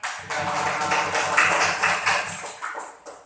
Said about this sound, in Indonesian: Baik, tepuk tangan untuk Sofia.